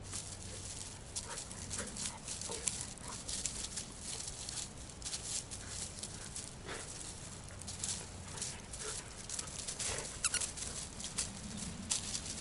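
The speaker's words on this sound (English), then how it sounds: "Dog has got way too much energy" An energetic dog named Steve playing near a shuttle camper, with quick scrabbling paws, rustling and small whimpering sounds scattered over a faint steady background, no talking.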